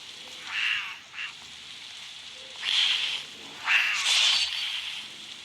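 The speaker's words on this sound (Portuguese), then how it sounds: "Ah, é o gato." A cat in a video game gives several short meow-like cries, spaced apart and moderately loud over a steady low background hum.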